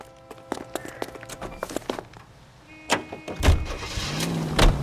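Car in the video game L.A. Noire, with door clunks, footsteps and movement, then the engine starting up and revving as it pulls away, fairly close and loud toward the end.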